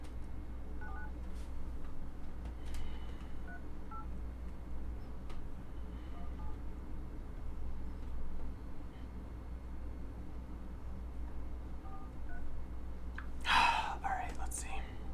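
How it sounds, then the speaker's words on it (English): Telephone keypad tones as a number is dialed for a call, a short burst of dialing near the end over a low steady hum, with faint background noise before it. "we're gonna give Eric a ring"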